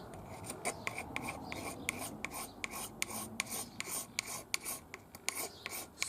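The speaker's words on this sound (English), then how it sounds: "I might just give that a little quick go with the magnesium, just sprinkle some magnesium shavings over it." A magnesium block is scraped over coal for fire lighting, giving quiet, close rasping strokes that repeat in a steady rhythm.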